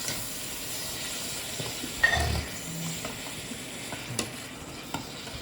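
Tomatoes are stirred and fried in a hot pan with a soft steady sizzle under occasional close clacks and scrapes of a utensil, including one louder knock and thud early on.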